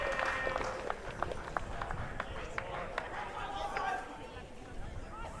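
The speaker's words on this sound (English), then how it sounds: "some pretty ecstatic cheering in the background" A crowd at a Major League Pickleball match in Brisbane, Gold Coast Glory versus Sydney Smash, keeps up a continuous roar of cheering and clapping under a commentator's voice.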